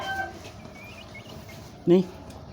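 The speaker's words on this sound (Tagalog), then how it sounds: "Parang may manok na dito guys" A single short cluck from a chicken sounds close by over a quiet background.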